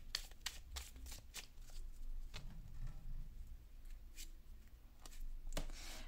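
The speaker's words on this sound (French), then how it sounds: "on va tirer une carte conseil" Cards from a shuffled deck are handled and drawn for a reading, giving a string of soft, close, papery flicks and taps in a quiet room.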